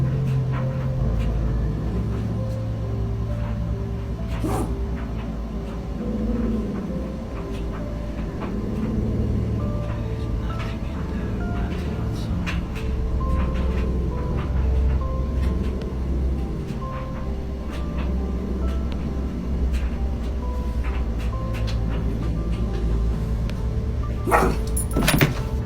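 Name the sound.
dog barking in a house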